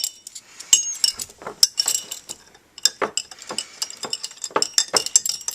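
Spoon clinking repeatedly against a glass while salt is stirred into water, rapid bright metallic ticks in an irregular stirring rhythm, close and alone.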